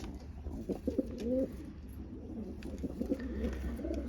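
Pigeons, a breeding pair, coo in soft repeated throaty bursts close by, with a low steady background hum and no talk.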